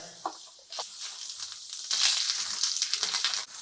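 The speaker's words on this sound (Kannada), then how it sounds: "ಇದನ್ನ ಚೆನ್ನಾಗಿ ಫ್ರೈ ಮಾಡ್ಕೊಳ್ಳಿ." Cumin, curry leaves, tamarind, chillies and mustard seeds crackle and sizzle in a hot pan, starting with scattered pops and swelling into a louder continuous sizzle before cutting off near the end.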